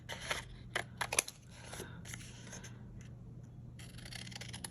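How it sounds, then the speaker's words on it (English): Scissors trimming small pieces of paper for a craft project, a few quick crisp snips and rustles close by, then quieter handling. "So now I'm just going to trim these"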